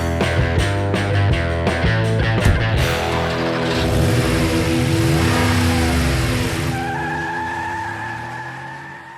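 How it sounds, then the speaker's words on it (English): A 450-horsepower Ford F-150 Raptor engine revs hard in wet conditions, a sequence of sharp blips giving way to a loud, sustained roar with shifting pitch, close and alone. "Before we meet James, let's meet the Ford F-150 Raptor, a 450 horsepower beast that was made for conditions like today."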